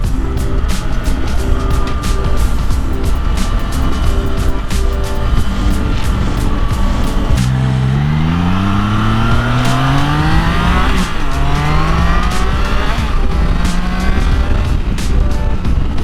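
A 2022 Triumph Trident 660 motorcycle engine pulls hard in fifth gear on a test ride, its loud steady drone climbing in pitch as it accelerates, with wind rush and a passing vehicle sweep, no talk.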